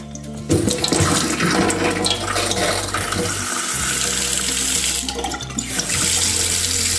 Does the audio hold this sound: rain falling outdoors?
no